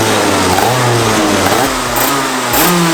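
A go-kart fitted with a BMW engine revs hard, the loud engine note rising and falling through several throttle blips, close and continuous.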